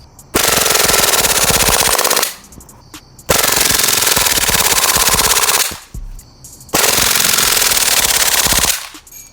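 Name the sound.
airsoft Glock 18C pistol firing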